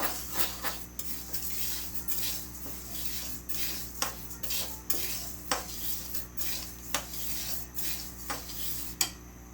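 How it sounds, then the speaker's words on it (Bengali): Mung and masoor lentils dry-frying in a metal pan, with repeated scraping and clinking of a utensil against the pan at an irregular rhythm over a steady low background hum, close and fairly quiet. "মুগের ডাল আর মসুরের ডাল একসাথে, এটাগুলোকে একটু ভেজে নেব।"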